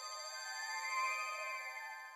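Mellotron pad pitched up a whole octave, reversed and chopped in FL Studio, giving a thin, bright sustained chord tone with no low end, steady and faint over two seconds.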